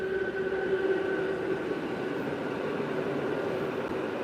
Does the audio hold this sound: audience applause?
no